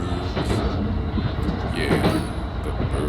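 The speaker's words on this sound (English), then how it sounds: "Riding on the train. Taking a little curve." A passenger train on the Sagami line rolls along the rails through a curve, a steady close rumble with rhythmic wheel clatter and brief high squeals from the wheels.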